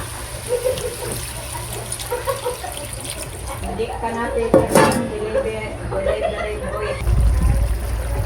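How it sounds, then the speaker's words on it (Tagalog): A splash of water is poured into a pan of sautéing tomatoes for sarciado dried squid. The pan clatters and a voice talks over the kitchen sounds. "Ayan, patlagyan na rin po natin ng konting tubig."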